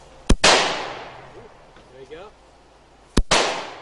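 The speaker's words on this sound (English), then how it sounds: "how to fire a semi-automatic weapon, like this Russian assault rifle" Two sharp, loud single gunshots from a semi-automatic Russian assault rifle, fired outdoors at a militia training, spaced about three seconds apart, each with a ringing decay, and a brief voice between them.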